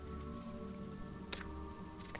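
Steady rain falling in the survival game Sheltered, a soft continuous patter held under a constant low hum for a couple of seconds.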